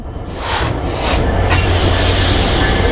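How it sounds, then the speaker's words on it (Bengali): A train pulls into Narail railway station with a loud, continuous rumble and rolling rail noise that builds slightly, with no talk. "ট্রেন চলে এসেছে ট্রেন আমাদের নড়াইলে"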